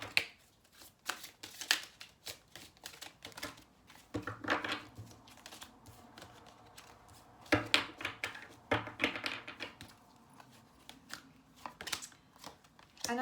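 Tarot cards being shuffled and laid out, giving quiet, close riffling and flicking bursts with sliding and tapping of cards on a surface, irregular throughout, no speech.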